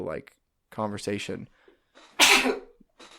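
A sneeze bursts out once, loud and close, in the middle of a casual podcast-style conversation, with talking before it and a brief sniff after.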